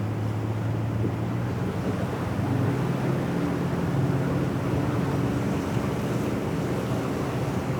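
A planing boat hull runs at 9 knots, giving a steady, loud rushing of water and wind noise with an engine drone underneath, continuous and close with no talk.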